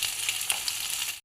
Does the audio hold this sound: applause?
no